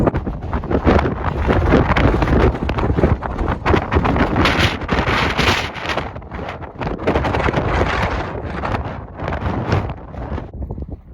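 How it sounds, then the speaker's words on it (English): Strong gusting wind on a mountain top buffets the microphone, a loud continuous roar with surging blasts and brief dips, no voices heard. "it was honestly way too windy to talk"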